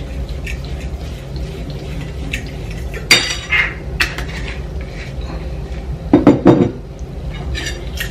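Chicken is mixed with oil and herbs in a bowl, with low, wet churning and a few sharp clinks and knocks of a utensil against the bowl.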